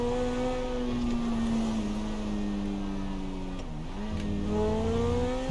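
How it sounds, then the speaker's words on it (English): Supercar engine in the video game GTA 5, a loud sustained droning rev with steady harmonic tone that dips briefly then climbs again, alone without talk. "just listen to the sound of this car, bro. It's like so intense. It's like a proper supercar"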